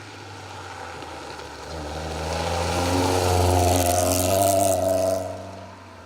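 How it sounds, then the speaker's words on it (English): A BMW 318 Ti Compact rally car on a special stage of the Roger Albert Clark Rally 2023 approaches from a distance, its engine note rising and growing louder as it passes, then fading quickly away. "It's the BMW 318 Ti Compact"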